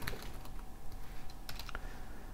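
Fast, uneven keystrokes on a computer keyboard while an email is typed, a close, steady patter of clicks with a few sharper taps standing out.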